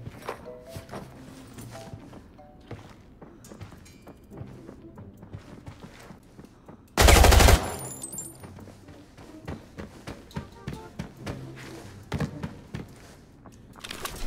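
Gunfire in the shooter game Arena Breakout, team elimination mode: a single loud, harsh burst lasting about half a second, standing out sharply against quiet, scattered clicks and movement noises.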